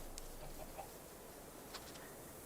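Chickens clucking in a Minecraft farm setting, a few faint, sparse clucks and chirps over a steady low background hiss.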